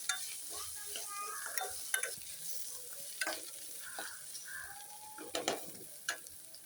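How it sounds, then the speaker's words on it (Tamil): Onion and green chili sautéing in a pan for prawn gravy, a quiet sizzle broken by intermittent spatula stirs and scrapes against the pan, close by, no talking. "வெங்காயம் வச்சு நல்லா வதக்கிக்கலாம்."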